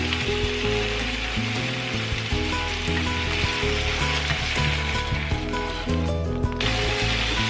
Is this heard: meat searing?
yes